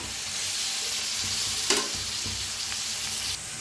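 Roasted hyacinth beans are stirred into a sizzling spiced masala in a pan. A steady, close frying hiss runs throughout, broken by one clear spoon scrape and clatter midway, with no voices.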